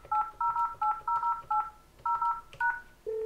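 A desk IP phone dials a number with a quick series of crisp, evenly paced DTMF keypad tones in short bursts, ending in a steady ringback-like tone, with no talking.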